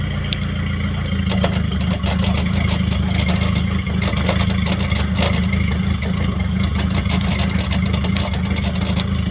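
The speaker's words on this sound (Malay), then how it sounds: "enjin dah hidup" A car engine with a fuel injection system runs at a steady idle nearby, a constant low hum with no revving, heard alone and without voices.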